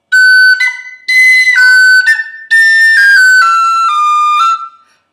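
A tin whistle plays phrase 2 of the Irish tune "The Connachtman's Rambles", bright high notes in three breathed runs with short gaps, loud and close, alone.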